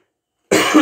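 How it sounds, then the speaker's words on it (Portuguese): A single close, loud cough bursts out of silence, a short harsh throat sound from a man reading aloud. "Perdão pela tosse."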